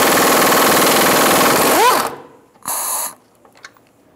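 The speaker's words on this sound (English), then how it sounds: "I'm gonna take this nut off with a 21 millimeter socket" A socket wrench rapidly spins off a nut on a 2000-2007 Ford Taurus front lower control arm, loud and close for about two seconds, followed by a short second burst.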